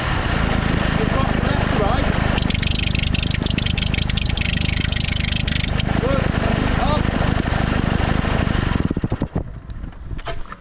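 A 2013 Mercedes engine starts and idles loudly up close, a dense continuous mechanical clatter with a bouncing belt tensioner and worn alternator pulley, running steadily before abruptly dropping off near the end.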